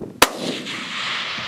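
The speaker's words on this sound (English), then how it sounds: "Taking aim, Landon squeezed off a shot." A single loud rifle shot fired at a pronghorn buck outdoors, one sharp crack followed by a long rolling echo that fades across open ground.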